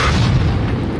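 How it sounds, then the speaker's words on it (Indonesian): A loud, dense explosion from a bomb in a Worms video game, a sustained rumbling boom filling the full second with no quieter break. "Lalu terjadilah ledakan yang luar biasa."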